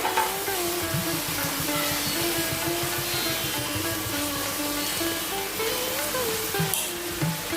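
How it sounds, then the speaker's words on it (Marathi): Ginger paste being fried with tomato and onion in a pan: a steady, close sizzle with rhythmic scraping stirs, and a voice talking over it. "आता आपण आलं जे हे पेस्ट घालूया ती सुद्धा व्यवस्थित परतून घेऊया"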